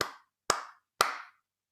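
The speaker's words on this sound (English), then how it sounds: "So usually I'll just start with just clap this back for me." Three crisp hand claps spaced evenly about half a second apart, close and dry, each with a short ringing tail, setting out a simple rhythm in a music lesson.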